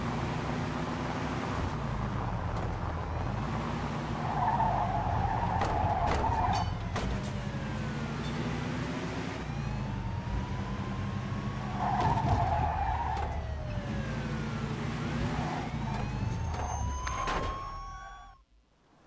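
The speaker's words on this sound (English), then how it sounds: "In pursuit of a speeding vehicle." A car chase in the Mafia II video game, with engines revving and tyres repeatedly skidding and squealing through turns as a police siren wails in rising and falling sweeps, loud and continuous before fading out at the end.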